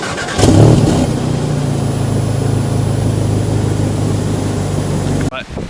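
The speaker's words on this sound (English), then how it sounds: "when I'm just normal starting it in the morning, it just sounds like a normal 2-litre petrol" Audi S3 2-litre petrol engine cranking into life with a loud rev flare, then settling into a steady, rumbling idle close by, which cuts off abruptly near the end.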